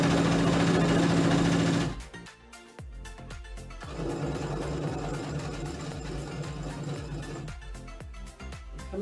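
Brother sewing machine running a seam near elastic, a loud steady motor whir that stops abruptly, followed by quieter mechanical clatter before stitching resumes at a steady pace.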